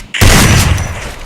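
Burst of gunfire from a Free Fire mobile shooter game, a loud, dense rapid volley starting abruptly and sustained for about a second with no voice over it.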